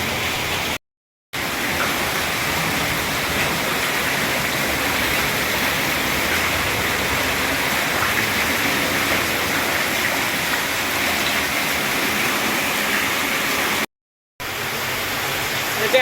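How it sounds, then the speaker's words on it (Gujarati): Heavy first monsoon downpour flooding a courtyard, a dense loud continuous roar of rain, broken twice by brief silent gaps. "આ પહેલો વરસાદ છે ધોધમાર વરસાદ"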